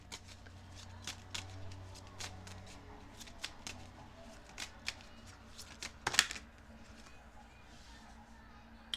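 Tarot cards being shuffled and handled during a reading, a run of crisp riffling flicks and taps close to the microphone, with one sharper louder burst midway, quiet and otherwise without talk.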